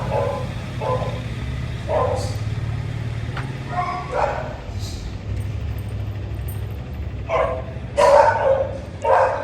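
Several dogs, including a Beagle, bark in scattered bursts against a steady low hum at a dog hostel, with a louder cluster of barks near the end.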